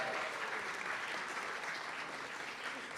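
A gala audience applauds at a youth fellows' presentation, a steady wash of many hands clapping at moderate distance, even and unbroken throughout with no talking on top.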